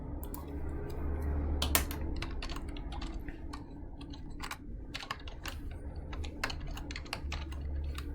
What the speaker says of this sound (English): I'm just going to type this in Wolfram Alpha.